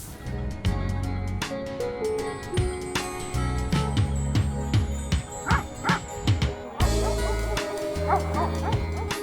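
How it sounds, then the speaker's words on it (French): Livestock guardian dogs that protect a flock bark repeatedly at close range in sharp, rapid yips and barks, with some whimpering and a faint jingle between them. "Le chien de protection fait partie intégrante du troupeau."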